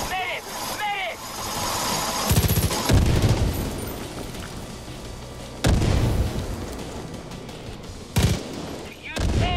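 A house blown up in the video game Far Cry 5 sets off loud booming blasts and bursts of gunfire-like cracks in several heavy waves, with a player talking over the chaos.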